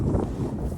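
Wind blows outdoors among trees, a brief, steady low rumble buffeting the microphone with no other distinct sound.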